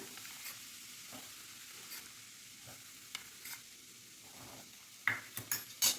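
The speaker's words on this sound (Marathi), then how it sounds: "तूप गरम आहे त्यामुळे पटकन असा फ्राय होतो" Semolina frying in hot ghee gives a soft, steady sizzle, with a spoon stirring and scraping the pan in brief strokes and a few sharper clinks of metal near the end.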